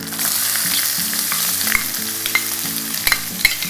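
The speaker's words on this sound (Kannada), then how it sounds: "ಈರುಳ್ಳಿ ಹಾಕ್ಕೊಳ್ತಾ ಇದ್ದೀನಿ" Finely chopped onions hit a hot pan of tempering seasoned with asafoetida, bursting into a loud, close sizzle with brisk stirring scrapes and a few sharp clinks of the spoon against the pan.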